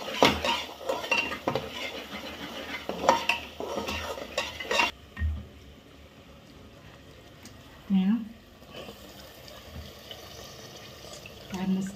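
Masala spices, including chilli powder, garam masala, turmeric and coriander powder, roast in a pan with brisk metal spoon scraping and clinks that fade to a quieter background, while someone speaks intermittently.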